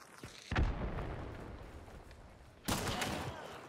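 Gunshots in Hunt: Showdown: two loud, sharp blasts, the first near the start and the second about two seconds later, each trailing off in a rumbling echo.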